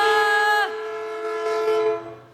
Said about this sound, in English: When the train passed